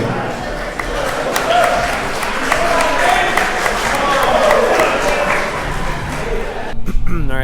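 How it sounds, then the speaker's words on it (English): A dinner crowd applauds the Yellowjacket CJ5 rally team at the Hawthorn High Desert Rally, steady clapping mixed with crowd chatter and voices throughout, then a sharper noisy burst at the very end. "Give a round of applause, guys."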